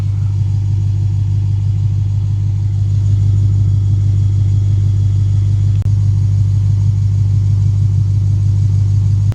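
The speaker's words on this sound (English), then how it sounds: "you can hear this low idle, the doom doom doom doom doom, little lopey. Sounds like a good old V8 now." A Lexus RC F V8 fitted with an Apexi axleback exhaust idles low and lopey, a loud, close, steady deep rumble with an uneven pulsing beat and no talking.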